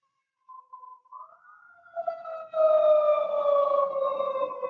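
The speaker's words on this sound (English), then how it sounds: "There's sirens going off all over here." Emergency sirens wail in a downtown area, starting faint and distant, then rising and swelling into a loud, sustained, wavering tone with a second siren overlapping.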